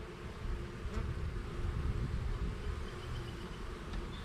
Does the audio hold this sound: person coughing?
no